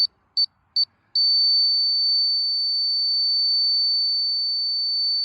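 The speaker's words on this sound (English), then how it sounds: "It'll start to make a noise when it gets close, like right now, and it'll put out a steady beep when you hit that line." A laser level detector on a farm shop pole build gives three short high beeps, then settles into a continuous steady tone, clear and alone.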